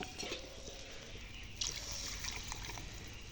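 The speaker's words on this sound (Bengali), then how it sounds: "এখন আমি জলটা দিয়ে দেব, এটা আমার ঝোলের জল।" Water is poured into a Bengali katla fish curry with potatoes to make the gravy, a continuous trickling and sloshing pour heard close over a low background rumble, with one brief louder splash partway through.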